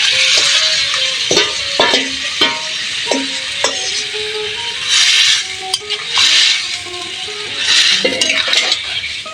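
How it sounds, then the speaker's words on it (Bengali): Boiled mashed potatoes go into a pan and get stirred, with a spoon scraping and clinking against metal in irregular strokes over a soft sizzle, close and fairly loud. "এখানে আমি এখন যে আলুগুলো সিদ্ধ করে ম্যাশ করে রেখেছিলাম সেগুলো এখন আমি এখানে দিয়ে নিব।"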